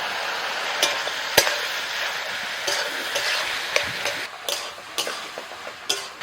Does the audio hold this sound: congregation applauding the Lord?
no